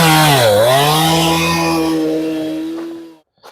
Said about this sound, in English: I just sharpened the saw, but it's still having a hard time cutting through here